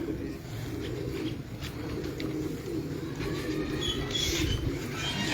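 Pigeons coo on a rooftop in Sialkot, their soft repeated calls sitting in a steady outdoor background with faint chirps above.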